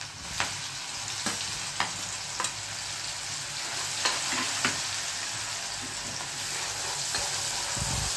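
Onion, garlic chillies and green chillies hitting oil tempered with mustard seeds, cumin and asafoetida, giving a loud, continuous sizzle broken by occasional spoon knocks against the pan.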